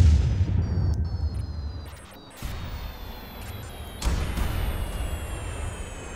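Artillery shells fired on a desert map in the strategy game Minner's Mettle, heard as a loud rumbling barrage with a sharp crash near the start and another blast around four seconds, over a continuous low roar.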